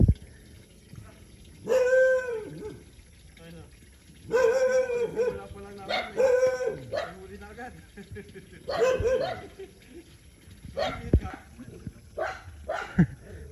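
Several sharp dog barks come in bursts amid a busy outdoor scene, with people talking and some watery splashing in the background.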